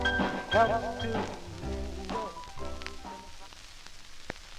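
Closing bars of a 1953 R&B 78 record, with vocal and horns giving way to a final chord and surface hiss, fading at the end.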